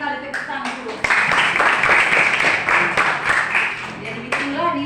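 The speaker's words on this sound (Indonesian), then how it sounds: "tepuk tangan dulu" Children clap together in a classroom, a busy patter of hands running for several seconds between an adult voice and children's voices, with talk heard over and around it.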